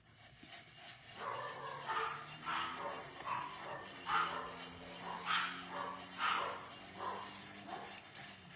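Dogs bark repeatedly indoors in a steady series of close, moderately loud woofs and yips with short gaps between them, some edging toward whines.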